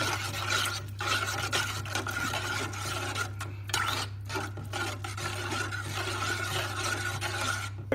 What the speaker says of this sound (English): So I'm just gonna stir that in.